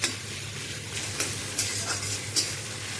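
Pointed gourd stuffing made with chhana and onion fries in a pan and is stirred, producing a loud, steady sizzle. A few distinct scraping strokes against the pan break through, close by.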